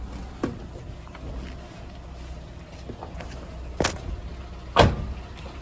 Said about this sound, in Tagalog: Yan, bumaba yung minor, yung idling.